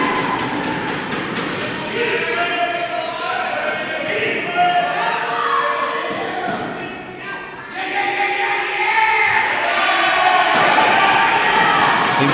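Crowd noise from an indie wrestling tournament audience backing a wrestler in the ring, a steady broad roar with scattered shouts and thuds running throughout, with a brief dip midway before swelling again.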